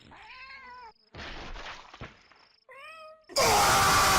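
A cat from the Flash game The Visit gives two strained, wavering meows separated by a harsh rushing noise, then a loud burst of noise takes over near the end.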